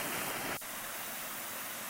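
A creek on an early spring hiking trail flows under a wooden bridge, giving a steady, broadband wash of running water that fills the clip evenly, with a brief dip in level partway through and no talking.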